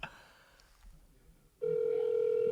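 An outgoing phone call begins after a stretch of quiet room noise, then a steady, loud ringback tone holds continuously for the final second.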